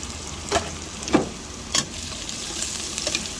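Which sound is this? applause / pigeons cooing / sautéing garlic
sautéing garlic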